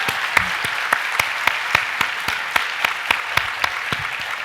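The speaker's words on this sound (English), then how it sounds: "I just want a round of applause for the legend that Mia Hamm is" An audience at a 2019 LA84 Foundation summit on soccer and social impact applauds steadily throughout, with sharp individual claps standing out from the wash. No one speaks.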